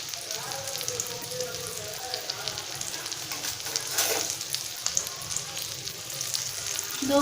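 Food fries in hot oil with a steady, close crackling sizzle like light rain, the spattering swelling slightly toward the end.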